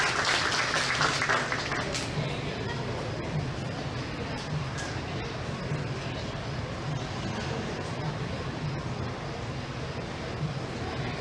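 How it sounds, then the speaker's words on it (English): A county fair crowd applauds the beef showmanship competitors: a steady, dense wash of clapping that holds for the whole stretch, heard from within the audience with faint background noise. "let's give this bunch a round of applause"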